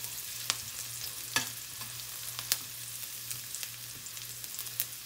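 Onions frying in hot oil in a pan, a soft continuous sizzle with several sharp crackles and pops spread across the clip, quiet and close.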